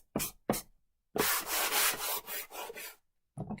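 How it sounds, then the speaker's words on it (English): Wood is sanded by hand with a sanding block: two quick scratchy strokes, then a run of steady back-and-forth rubbing strokes, then a short pause before more sanding, all close up with no talking. "I'm just going to sand the wood"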